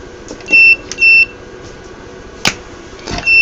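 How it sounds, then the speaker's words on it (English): A buzzer on an ESP32 circuit sounds several short electronic beeps in an irregular pattern, some doubled, loud and close over faint room hum, with a couple of sharp clicks between them. "but buzzer signal anyway"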